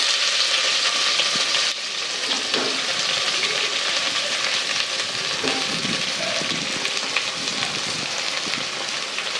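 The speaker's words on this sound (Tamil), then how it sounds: "வெங்காயத்தை எடுத்து போட்டு நல்லா வதக்கணும்" Onions fry in oil with cloves and cardamom for mutton chukka, giving a continuous loud sizzle with occasional stirring scrapes and knocks in the pan and no one speaking.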